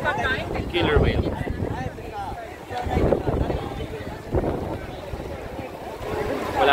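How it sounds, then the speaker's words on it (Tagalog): Strong wind buffeting a microphone outdoors at SeaWorld Kamogawa in Japan, loud rumbling gusts that surge and ease throughout, with a voice talking underneath. "Napakalakas ng hangin."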